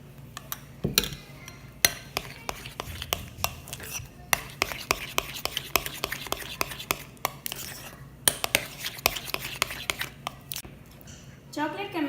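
Cream cheese being stirred into a chocolate mixture in a bowl for a no-bake chocolate cheesecake, with repeated soft scraping and clinking of a utensil against the bowl in an irregular rhythm, close and fairly quiet.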